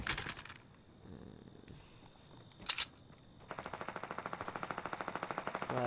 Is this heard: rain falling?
no